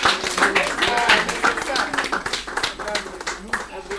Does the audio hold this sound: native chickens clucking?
no